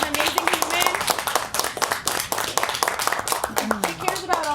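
A small outdoor crowd gathered to hear governor candidates on homelessness claps in a brisk, uneven patter while people talk and call out over the applause.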